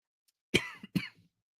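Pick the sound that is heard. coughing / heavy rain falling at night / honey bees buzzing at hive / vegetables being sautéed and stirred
coughing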